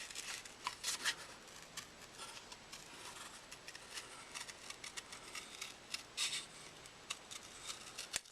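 Scissors snipping paper around a stamped image for a handmade card, soft quiet crisp cuts in irregular bursts, close and alone.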